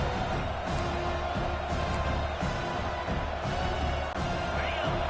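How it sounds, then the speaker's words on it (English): Stadium crowd in the College Football 26 video game roaring steadily in a full, dense wash, with fluctuating swells over a continuous low rumble. "This crowd, full throat, spreading the eardrums and letting them know it's going to be a long day."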